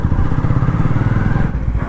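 A motorcycle engine runs steadily up close with a throaty, pulsing rumble, briefly dipping in pitch near the end before carrying on.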